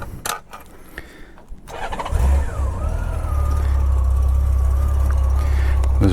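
A 1997 Honda Goldwing GL1500SE motorcycle engine cranks and fires, then settles into a steady, smooth idle that stays loud and close for several seconds after a few clicks and handling noises.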